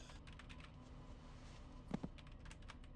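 Faint keyboard typing in the Hitman 2: Silent Assassin video game, a quiet run of soft key clicks with a couple of slightly louder taps near the middle.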